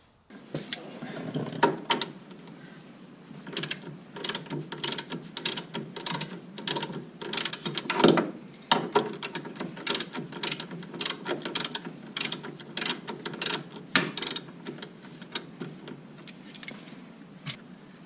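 Ratchet wrench clicking in quick repeated bursts while undoing the motor mounts on a Jeep CJ7 engine, close and clear, with short pauses between runs of clicks and no talk.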